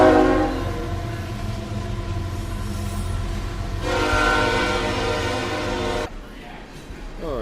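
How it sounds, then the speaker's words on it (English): A heavy train rumbles past close by, its horn blaring in long sustained blasts through most of the stretch before cutting off, with the rail noise continuing underneath afterward. "Heavy train coming by here."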